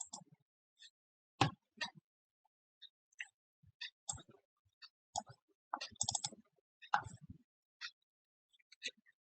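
Sharp mouse clicks while working in STAAD Foundation software, a scattered run of quiet, close taps spread across the stretch, with some soft background noises between them.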